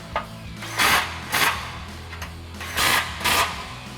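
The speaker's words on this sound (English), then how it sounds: "take a 13mm socket to tighten down your nut" Ratcheting 13mm socket tightening an exhaust lock nut on a 2021-2026 Ford Bronco during a cat-back exhaust install, four close bursts of quick clicking in two pairs over a low steady background hum.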